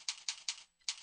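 Four quick, crisp keystrokes tap out on a computer keyboard in a steady rhythm, close and fairly quiet, entering a search keyword.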